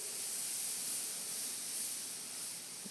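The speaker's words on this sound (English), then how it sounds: "just thought I'd do a little bit of airbrushing so you can see" An airbrush sprays paint onto a stretchy skull, producing a steady, close, airy hiss that runs continuously and evenly throughout.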